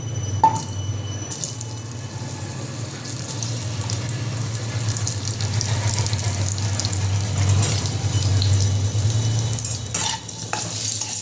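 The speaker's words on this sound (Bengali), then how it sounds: "আলুটা আমি হালকা লাল করে ভাজবো।" Potato pieces frying in hot salted oil in a home kitchen pan, a steady dense sizzle running throughout with occasional clinks and scrapes, close and fairly loud, no voices.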